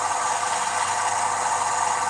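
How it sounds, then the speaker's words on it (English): Exhaust chuff from a sound decoder in an HO scale H16-44 model locomotive in Milwaukee Road livery, a steady, even rumbling drone that runs unbroken and fairly loud from start to finish with no talk. "I still have to wonder if the sound of the exhaust on these things was actually taken from either a locomotive or a towboat."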